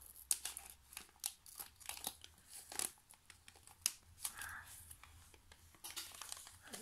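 A cardboard advent calendar box being pried open by hand, with repeated crinkly tearing and rustling bursts of paper and card, close and fairly quiet, all through the clip.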